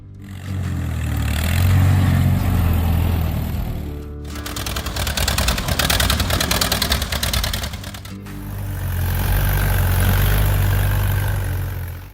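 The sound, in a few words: Allis-Chalmers WD45 tractor engine idling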